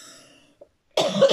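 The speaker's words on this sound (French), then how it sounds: "c'est que je tousse" A woman with a mild throat infection gives a single loud, close cough at the end, after a brief quiet pause.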